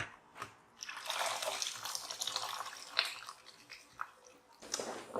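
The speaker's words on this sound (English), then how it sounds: "we're going to add the cooked dal in this mixture now." Cooked dal for dal makhani being poured and spooned into a pan mixture: soft, close wet plopping and squelching in a continuous stretch, faint overall, with a brief pause before and a final splat.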